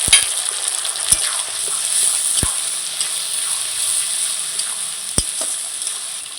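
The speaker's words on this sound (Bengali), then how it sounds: "এবার বেটে রাখা মশলাটা দিয়ে দিচ্ছি। আদা, জিরা, লঙ্কা আর একটু রসুন বাটা।" Ground spice paste of ginger, cumin, chili and garlic sizzles steadily in hot oil with fried onions for a snakehead fish curry, a constant close hiss broken by a few sharp clicks and scrapes of stirring.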